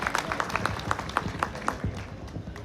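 Audience applause, steady and fairly light, with individual claps pattering in a loose rhythm throughout.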